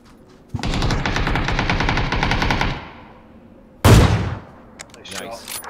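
Rapid automatic gunfire from a first-person shooter video game rattles loudly for a couple of seconds, then a single heavy blast-like burst follows after a short gap, with faint game noise around it.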